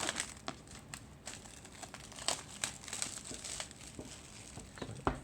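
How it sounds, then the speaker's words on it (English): Foil packaging crinkles and crackles while a Redmi Note 9S is unboxed, with close, steady crumpling and occasional sharper tearing snaps. "Foil out of the way."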